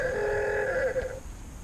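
A telephone rings in a home setting with steady two-tone electronic trills lasting about a second before cutting off, fairly close and clear with no talking.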